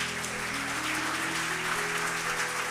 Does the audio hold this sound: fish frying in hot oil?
no